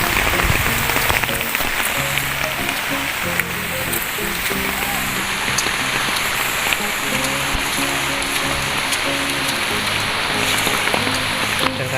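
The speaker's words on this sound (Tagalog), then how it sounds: "Lakas pang ulan." Heavy rain pours down at a farm resort, a dense, steady hiss of drops drumming on surfaces, loud and unbroken throughout, with faint music or voices buried underneath.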